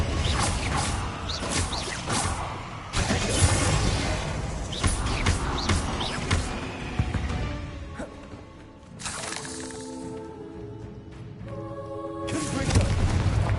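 A Confringo fire spell blasts in the Hogwarts Legacy video game, with booming impacts, shattering crashes and whooshes in a dense, loud run of combat effects, and a voice speaking briefly between them.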